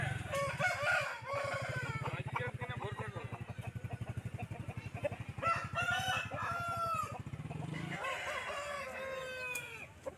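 Roosters crow amid a crowded rural poultry market in Jhargram district, West Bengal, with voices talking throughout and a motorcycle-like engine rumble underneath; the crowing rises loud several times over the steady din.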